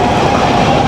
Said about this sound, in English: That's the train right there